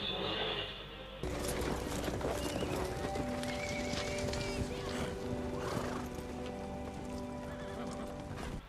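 A horse in a superhero movie battle scene, whinnying and neighing with hoof clatter amid dense action sound effects and score, loud and continuous.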